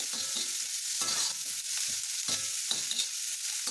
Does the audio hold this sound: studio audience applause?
no